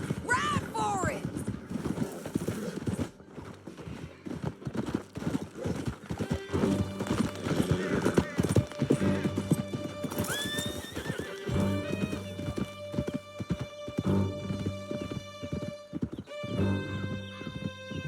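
Horses in Red Dead Redemption 2 galloping hard with steady clip-clop hoofbeats, while repeated whinnies and neighs sound over them and a musical score plays underneath, close and loud the whole time.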